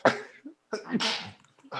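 A sharp, close sneeze bursts out among a few short coughs and throat noises, quick and loud against a quiet room.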